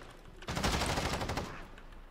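Burst of automatic fire from a CR-56 AMAX rifle with a long barrel in Modern Warfare, a loud rapid string of shots lasting about a second, with fainter shots trailing off after it.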